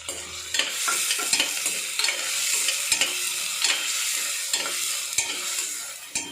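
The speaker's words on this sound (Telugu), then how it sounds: "ఇప్పుడు పచ్చిమిరపకాయ కట్ చేసి పెట్టుకున్నాం కదా, ఆ ముక్కలను కూడా వేసుకున్నాము." Chopped green chillies frying in oil in a pan for radish paratha kurma, a steady loud sizzle with repeated stirring scrapes and clacks throughout, close up and without speech.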